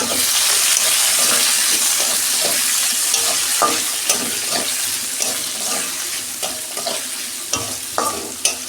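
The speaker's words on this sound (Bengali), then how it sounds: "পেঁয়াজটা আমি 2 মিনিট ভেজে নেব।" Sliced onions and three green chilies frying and being stirred in a pan while prawn malai curry is cooked, a steady close sizzle broken by spatula scrapes and clinks.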